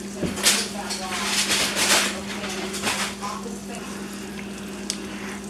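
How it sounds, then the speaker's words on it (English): Steady crackling sizzle of BBQ baby back ribs in a hot pan, with a few louder pops and scrapes over a constant low hum. "They are sizzling."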